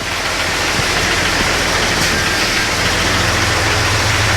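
A Jeep Cherokee engine idles steadily right after a new power steering pump and box install, a constant close rumble with a low pulsing drone and a broad hiss, loud and unchanging throughout.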